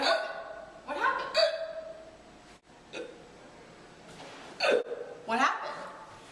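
Several sharp hiccups, close and fairly loud, come irregularly, mixed in with a person's talking and a light chuckle.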